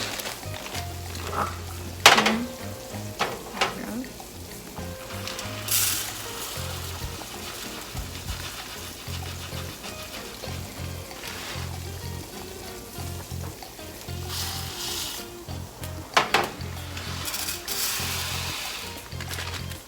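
Brown rice scooped into a ground turkey stir fry, with clinks and scrapes of utensil against pan and a low steady sizzle running throughout, a few louder knocks standing out.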